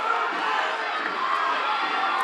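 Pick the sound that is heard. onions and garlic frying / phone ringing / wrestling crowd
wrestling crowd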